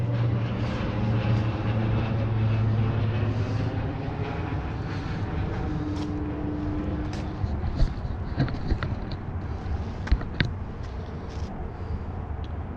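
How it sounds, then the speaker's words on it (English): An airplane drones overhead in a steady, distant rumble that persists throughout, heard outdoors along a path toward a lighthouse in Sleepy Hollow, New York, with faint scattered ticks and rustles mixed in. "There's a plane flying above."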